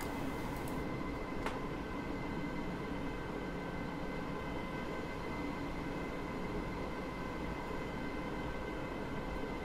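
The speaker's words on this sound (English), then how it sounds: "That's just the train from the front." A Great Northern Class 313 electric train runs from Moorgate toward Welwyn Garden City in Train Sim World, a steady, moderately quiet rolling rumble with a constant motor hum and a brief sharp click early on.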